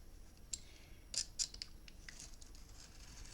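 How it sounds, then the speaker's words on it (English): A blade snips through a page in a memory book, with a few quick, close, crisp cutting clicks in a quiet room. "I'll see if it'll cut with the blade."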